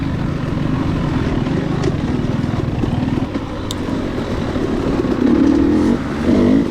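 A KTM 300 XC-W two-stroke dirt bike races through wooded hare scramble trails, its engine droning steadily near and loud with constant throttle shifts and brief revving surges toward the end.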